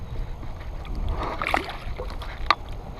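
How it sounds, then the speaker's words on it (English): A kayak on a lake on a calm day for bass fishing, with soft outdoor air and gentle paddle splashes, one sharper splash near the end. "We're gonna do some kayaking today."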